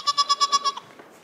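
A goat on a goat farm bleats close by in a quick run of about six rhythmic, nasal pulses, then trails off into quiet.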